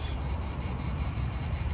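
Cicadas sing in a steady, dense, high buzzing drone with no pauses, close and fairly loud.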